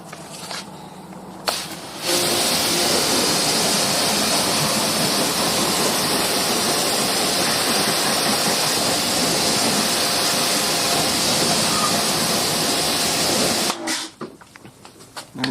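Water sprays steadily over a wheel brush being rinsed, a loud close hiss running unbroken for about twelve seconds before cutting off.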